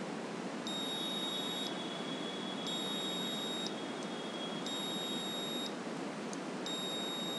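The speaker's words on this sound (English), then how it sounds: "So this buzzer turns on and off." An Arduino-controlled buzzer beeps in evenly spaced bursts, switching on for about a second and off again in a regular cycle, clear and alone over a steady background hiss.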